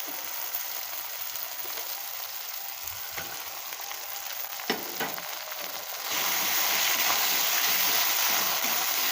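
Chopped onion and softened tomato sizzle steadily in hot oil with ground spice paste, a continuous crackling hiss with occasional stirring scrapes that grows noticeably louder and brighter partway through, with no talking.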